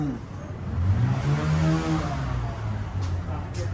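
A TVS Metro motorcycle at a used bike station revs nearby, its engine note rising and falling in a low, throbbing drone over a few seconds, with some background voices.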